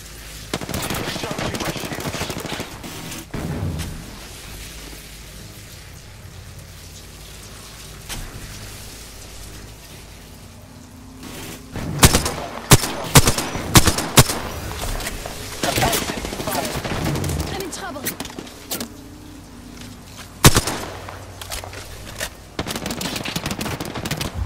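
Gunfire in an Apex Legends match: sharp bursts of rapid shots and single cracks come in clusters, some close and loud, others quieter, amid game ambience and occasional voice chatter.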